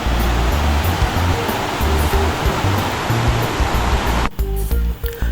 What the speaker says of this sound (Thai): ตรงนี้ก็จะเป็นน้ำตก ชั้นหนึ่ง